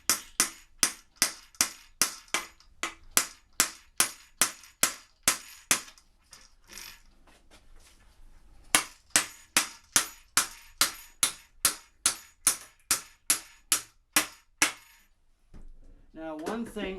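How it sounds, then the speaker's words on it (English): Metal bolt hammered through a tripod mount hole: a long run of sharp, evenly spaced hammer strikes, loud and close, pausing briefly midway before another steady series resumes. "you may have to hammer it through"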